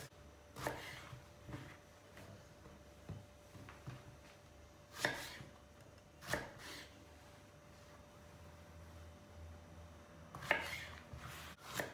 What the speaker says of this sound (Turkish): Patlıcanlarımızı elma dilimi doğrayacağız.